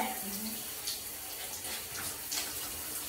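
Water runs steadily from a shower in a home bathroom, a continuous close hiss of spray with faint voice underneath.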